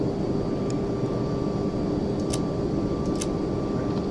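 Simulated Boeing 757 jet engines at takeoff thrust in the FSX flight sim, a steady, loud broadband roar with a faint whine, holding constant throughout with a few brief high clicks.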